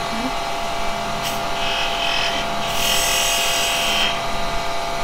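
A turning tool cuts a small chamfer on a wooden workpiece spinning on a lathe, part of a hummingbird-and-flower piece; a steady scraping hiss swells in two bursts, a short one and then a longer, louder stretch, over a constant low motor hum.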